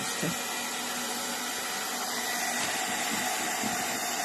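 A crafting heat gun blowing hot air while candles are decorated, a continuous loud whooshing hum held steady throughout.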